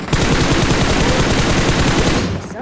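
Sustained automatic gunfire spraying in PUBG Mobile during an esports match, a dense, loud, continuous burst of rapid shots lasting a couple of seconds before tapering off.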